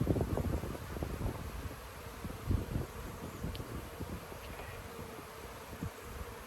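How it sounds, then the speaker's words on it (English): Many honeybees buzz continuously around an open hive during a hive split, a dense droning hum with no voices, steady and fairly close throughout. "Oh, so many bees. So many bees"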